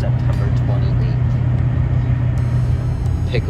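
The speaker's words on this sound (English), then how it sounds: "We are driving down the road in our truck on this Wednesday" A pickup truck cruising down the interstate makes a steady low engine and road rumble with constant tire noise, loud and unchanging throughout, with no clear speech on top.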